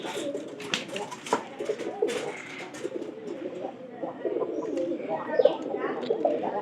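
Domestic pigeons coo close by in soft, repeated throaty calls, mixed with a few sharper bird chirps against a quiet background.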